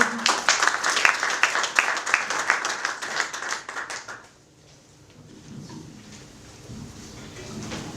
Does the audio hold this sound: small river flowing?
no